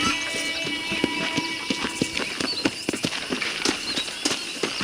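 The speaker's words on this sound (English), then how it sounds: "Okay, let's see if you can still ride a horse." Horse hooves clip-clop steadily in Red Dead Redemption on PC, a brisk, even rhythm of sharp close hoofbeats running throughout with no talking.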